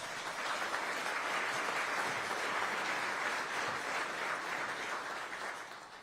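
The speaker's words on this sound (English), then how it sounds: "Give them a round of applause" Attendees at a city address on innovation and technology in Aurora give a round of applause, a steady, even roar of many hands clapping that holds for several seconds before fading slightly.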